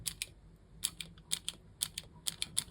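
Rotring Tikky III mechanical pencil clicks and rattles in a string of sharp, light, irregular ticks, close and quiet against a faint background hum.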